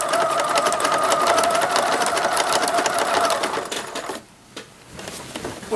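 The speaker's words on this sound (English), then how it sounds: "I'm using a blanket stitch. It's one of my very favorite stitches on the machine" A sewing machine running a wide blanket stitch around the edge of a lace tablecloth wall hanging, a steady fast mechanical whir with rapid needle clatter, close and loud, stopping briefly near the end before starting again.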